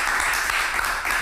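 Applause from a television studio audience, a dense steady patter of many hands clapping at moderate volume, continuous across the short stretch.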